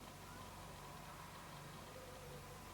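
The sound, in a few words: tractor engine running outside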